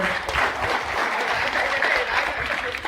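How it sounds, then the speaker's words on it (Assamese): An audience at a speech event applauds for a speaker, a dense, steady burst of clapping from many hands that runs throughout, close and fairly loud. "সকলোৱে ডক্টৰ অনিল শইকীয়াৰ কাৰণে এটা হাত চাপৰি বজাওক।"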